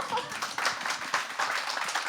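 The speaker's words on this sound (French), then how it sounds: "Merci d'applaudir Astrid Catalan." Audience at a French book event applauding a poet, a brief burst of moderately loud, steady clapping from a modest crowd, heard alone.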